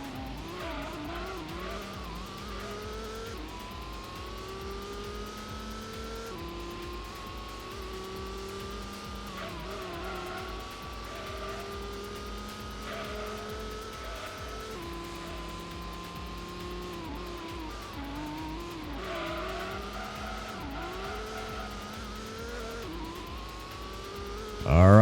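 In the Gran Turismo video game, a tuned race car corners lap after lap with a constant loud engine drone, rising and falling revs through shifts, and intermittent tire squeal.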